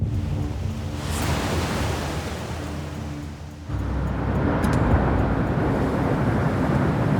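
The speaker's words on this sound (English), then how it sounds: "That's the storm surge coming in." Hurricane Katrina's storm surge rushes in as a loud, steady roar of churning water, swelling even louder partway through, with no voices.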